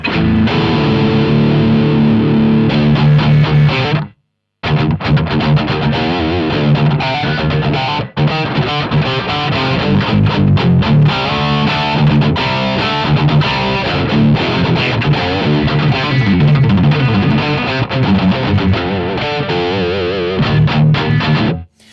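A distorted electric guitar, a Les Paul, plays chords and riffs through the overdriven drive channel of a BluGuitar Amp1 with reverb off, loud and continuous, with one brief pause early on.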